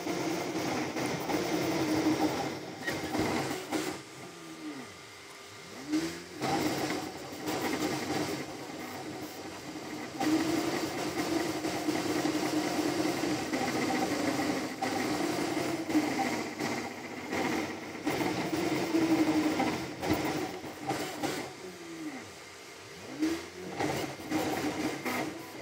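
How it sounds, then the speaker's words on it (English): A Creality Ender 3 V3 3D printer printing a Benchy at high speed, giving off a continuous whirring, buzzing mechanical noise with rapid stepper motor pitch sweeps and brief pauses, close and steady throughout. "There's noticeable noise coming from the printer, and it's pushing crazy."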